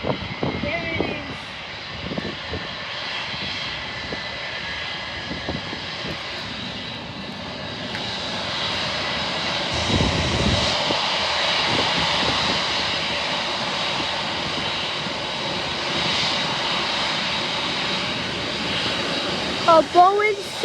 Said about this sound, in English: A Boeing 747. Wow!